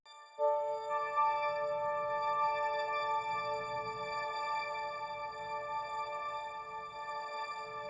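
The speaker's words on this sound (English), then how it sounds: "So here's what the pad will sound like now." A soft synth pad sustains a steady chord, with a grainy, shimmering ambient texture underneath, fairly quiet throughout.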